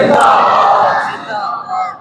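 A large crowd at a religious lecture roars religious slogans back in unison, a loud, close burst of many voices shouting together that fades over about two seconds.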